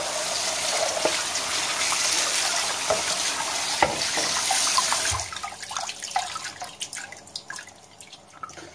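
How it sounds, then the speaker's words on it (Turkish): Cold tap water running over rice being washed for a chicken and chickpea pilaf, a steady close splashing stream with drips that cuts off partway, leaving scattered trickles and drops. "Nişastasını attırana kadar yıkayacağız."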